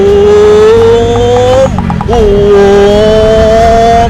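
A big motorcycle engine revs loudly and close, pitch climbing, dipping briefly at a gear change, then rising again in a sustained roar.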